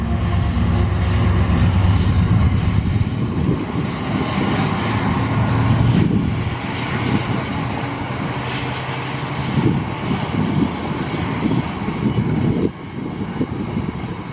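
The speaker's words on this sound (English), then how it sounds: "this General Electric-built European locomotive departing Wakefield Kirkgate" A heavy General Electric-built electric locomotive departing Wakefield Kirkgate station rumbles steadily with a deep engine drone and rolling noise, loud and close, easing slightly toward the end.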